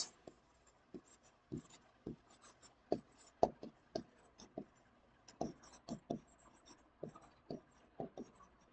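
A pen or marker writes by hand on a board during a chemistry lesson, producing a steady series of short, close scratching strokes with brief pauses between words.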